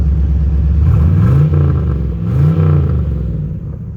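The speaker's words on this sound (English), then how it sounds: "Definitely a nice muscle car sound." A deep, throaty 327ci V8 engine in a 1968 Corvette with a 4-speed rumbles steadily, rising in two brief revs before settling back to a loud, continuous idle.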